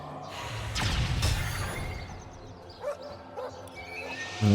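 A dog in the video game Divinity: Original Sin barks and yips in a few sharp bursts, followed by softer whimpering sounds at moderate distance over quiet game ambience.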